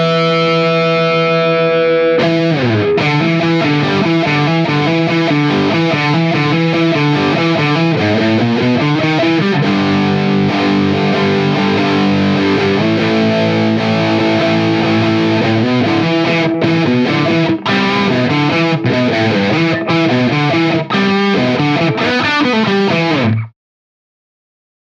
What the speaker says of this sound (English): an amp distortion will do just fine as well, as long as you turn the gain knob pretty much high